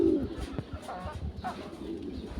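Pigeons cooing softly in a loft with a low murmuring call near the start and a few fainter coos after, set against steady background noise.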